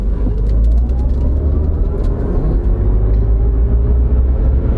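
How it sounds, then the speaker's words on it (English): A heavy Chevy pickup weighing about 8,800 pounds accelerates hard, heard from inside as a loud, steady low engine rumble with road roar rising slightly, with no talking. "Now there's nobody behind us, so let's step on the gas."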